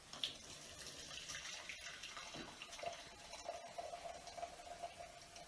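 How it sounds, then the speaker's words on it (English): Elderberry herbal decoction poured from a pan through a sieve into a heat-resistant container, a faint continuous trickle and splash of liquid with a few small clinks, fairly quiet and without talk. "carefully lift your pan and pour it through a sieve into a heat-resistant container"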